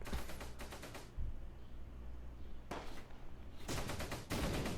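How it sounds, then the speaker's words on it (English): Gunfire bursts out in the Close Combat Gateway to Caen war game in Normandy bocage, rapid machine-gun rattles in several distinct bursts separated by brief lulls, loud and close, with no talking. "Let's go ahead and open fire, destroy that damn flat gun."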